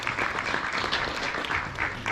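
Short burst of audience applause at a live martial arts seminar, a dense wash of clapping that stays fairly even for about two seconds.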